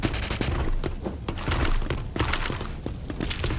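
Gunfire rattles in a Mini World Royale gun duel match, with loud, dense, repeated bursts of shots and sharp impacts continuing throughout, no voices.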